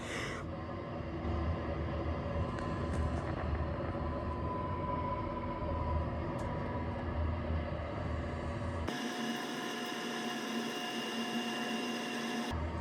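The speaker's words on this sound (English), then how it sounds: "The train is slowing down." A passenger train in Norway slows down, heard from inside as a continuous rumbling, rattling drone with faint squeals; near the end the low rumble drops away and a thinner, brighter hum takes over.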